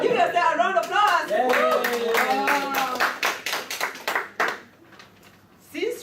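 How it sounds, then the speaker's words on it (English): An audience breaks into applause, with a dense patter of clapping that swells and then thins out, mixed with voices talking and calling over it. "Give yourself a round of applause."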